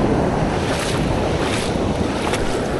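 Big ocean waves roll and wash around a boat near Canimog Island, with a constant loud roar of water and buffeting wind noise on the microphone.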